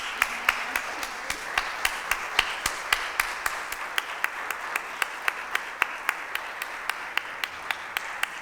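Concert audience applause for a performer, a bed of crowd clapping overlaid by one near, loud clapper keeping a steady rhythmic beat throughout.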